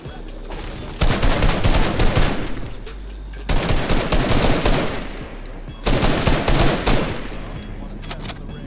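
Rapid automatic gunfire in the video game Fortnite comes in three long, loud bursts of fast repeated shots, each separated by a brief lull.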